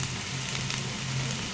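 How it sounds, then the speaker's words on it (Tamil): Onions and spices sautéing in a pan for drumstick-leaf sambar, cooking until golden brown, give a steady, soft sizzle that runs evenly with no talking. "கோல்டன் ப்ரௌன் கலரில் கொஞ்சம் நேரம் நல்லா வதங்கணும்."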